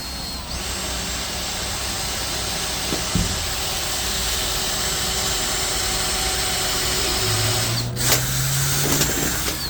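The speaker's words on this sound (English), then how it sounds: "that gives us our guide for our drill bit" A power drill whirs steadily into a metal commercial door at a punched guide mark, a continuous loud grinding hiss with a brief pitch change as the bit bites in near the end.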